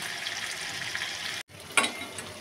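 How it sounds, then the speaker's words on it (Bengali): Hot water poured into meat frying in oil in a pan: steady sizzling and bubbling, then a brief break and a sharp burst of hissing as the water hits, at close range with no talk. "এই দেখো গরম জলটা আমি দিয়ে দিব এখানটা"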